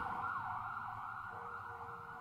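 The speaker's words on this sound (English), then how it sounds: "We've got sirens all day long." An emergency siren wails steadily at a distance in Seattle city streets, its high tone shifting slightly, with faint traffic rumble underneath.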